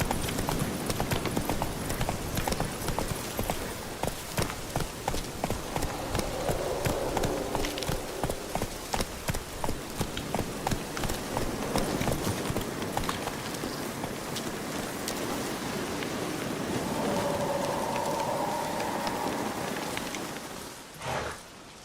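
Horse hooves gallop steadily in The Witcher 3, a fast, even clip-clop rhythm that runs throughout, close and moderately loud over a soft rushing background, slowing and fading at the very end.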